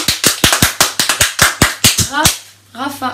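A live audience claps in a run of sharp, evenly spaced slaps, close and loud, that stop partway through before a voice speaks.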